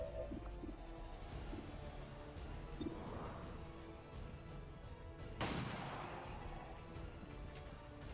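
Gunshots in the tactical strategy game XCOM 2, a few sharp reports spread over the clip, including a loud crack with a ringing tail partway through, set against a steady battlefield background.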